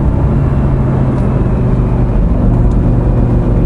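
A Lamborghini Gallardo's engine drones loudly and steadily from inside the car while driving on a winding road once used for rallying, a deep continuous roar with a whirring edge and no talk.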